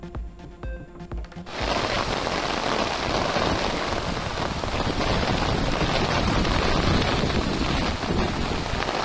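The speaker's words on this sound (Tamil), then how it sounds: "தமிழ்நாட்டின் பல்வேறு இடங்களில் இடி மின்னலுடன் மழை" Heavy rain in Tamil Nadu during a thunderstorm, a dense, loud, continuous downpour hiss that starts abruptly and holds steady to the end.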